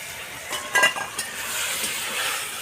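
Fried cauliflower goes into a fish curry in a pan and gets stirred, giving a close sizzle and scraping with a few clinks near the start, then a steady frying hiss.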